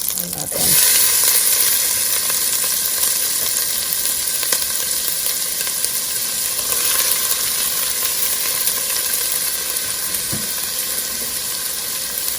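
Onions sauté in melted butter in a pan, giving a steady, fairly loud hiss of sizzling that runs through the whole stretch, broken by a couple of brief clatters.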